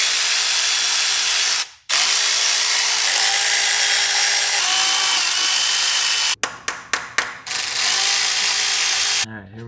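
A ratchet backing out T25 Torx screws on the top half of an engine, loud close clicking and whirring that runs steadily, then breaks into several short separate bursts near the end.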